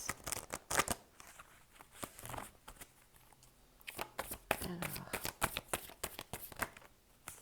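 Playing cards being shuffled at close range in rapid, rustling bursts of riffling and flicking, pausing briefly before resuming; a voice talks faintly underneath at times.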